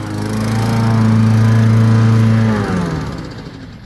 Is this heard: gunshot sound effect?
no